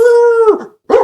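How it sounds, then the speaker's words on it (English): A dog gives a single long, loud howling bark close by, followed after a short pause by a brief second yelp. "and dogs start barking"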